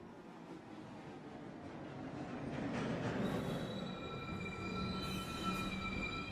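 A New York City subway local 1 train pulls into the station, a rising rumble of wheels on rails building to a loud roar with high metallic squeals of the wheels, and no talking.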